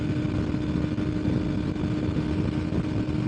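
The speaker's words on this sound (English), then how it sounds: "I can hear my motorcycle a lot better." A motorcycle engine drones steadily while riding, a constant mid-pitched hum with wind rushing over it, close and fairly loud throughout.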